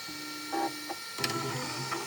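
An Elegoo Centauri Carbon 3D printer starts up for a print, its motors humming steadily with short rising whirs as parts move into position, up close and with no talk.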